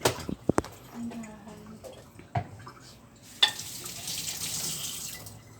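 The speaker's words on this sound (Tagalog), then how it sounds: "Lagyan mo na siya ng tubig." Tap water running into a small bio-mineral water pot, first faint splashes with clattering handling of the pot, then a louder steady rush of pouring water toward the end, with someone talking quietly in the background.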